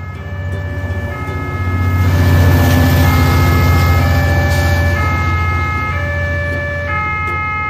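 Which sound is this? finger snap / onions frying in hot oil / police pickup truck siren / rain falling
police pickup truck siren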